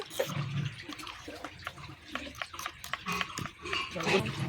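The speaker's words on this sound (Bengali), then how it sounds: "অল্প করে জল দিয়ে আমি এটাকে ভালো করে গুলে নেব।" Mustard and poppy seed paste with salt is mixed with a little water for a pabda fish curry, heard as soft wet stirring with scattered light clinks, under a voice talking in the kitchen.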